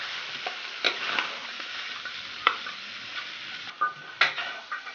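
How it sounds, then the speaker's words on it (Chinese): Pork ribs stir-frying in a little hot oil in a wok, with a steady sizzle and repeated sharp scrapes of the spatula against the wok, close and alone with no talking. "我们先把排骨多炒一会儿"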